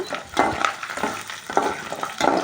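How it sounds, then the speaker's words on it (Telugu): Dry red chillies frying in hot oil with black gram lentils and mustard seeds, a close crackling sizzle under repeated stirring and scraping in the pan, with no voices. "ఎండుమిరపకాయలు కూడా వేసి వేయించుకోవాలండి"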